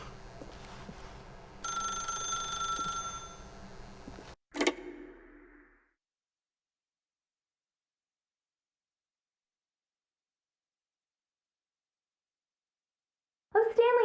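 Telephone in The Stanley Parable video game rings loudly with bright, shrill bell bursts for a few seconds over a low ambient game hum, followed by a sharp click, then near silence before a voice begins at the end.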